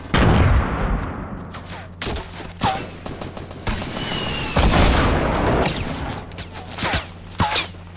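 Gunfire in a video game: loud, rapid shots and heavy booms fill the whole stretch in dense bursts, with short whooshing sweeps between volleys and no talk.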